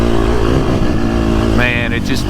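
A 2024 Husqvarna FC350 four-stroke dirt bike engine runs loud and close for the whole stretch, its throttle rolled on with a rising rev near the end while a rider talks over it.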